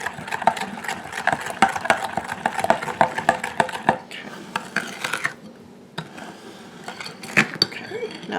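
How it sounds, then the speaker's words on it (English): Blondie batter being stirred in a bowl, the utensil clinking and knocking against the sides in a brisk, uneven rhythm up close, then easing into softer scraping and a few sharper clinks. "Now that we have that fairly well mixed, we're going to mix it into our flour."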